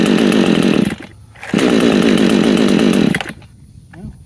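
A Vevor 58cc petrol chainsaw runs loud and close with a buzzing engine drone. It dips briefly near the start, surges back up, then falls away to a lower idle.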